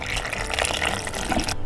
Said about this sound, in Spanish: Y ahora vamos a agregarle agua.